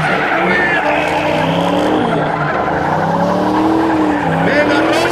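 A drift car at a drift exhibition, its engine revving hard while the tires squeal, loud and continuous throughout, with voices faintly underneath.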